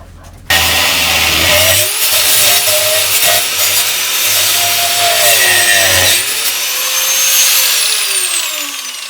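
A loud, continuous hand saw grinding through wood after an abrupt start, with a rasping, slightly varying tone that fades toward the end.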